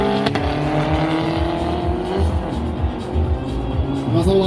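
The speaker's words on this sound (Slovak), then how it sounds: "Už vidíme BMW M5 F-kovej generácie." A BMW M5 F-generation engine rumbles loudly at an airport drag race in Poprad, a steady deep droning roar that rises slightly toward the end, with a commentator's voice faintly underneath.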